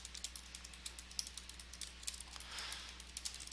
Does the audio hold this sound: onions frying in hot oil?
no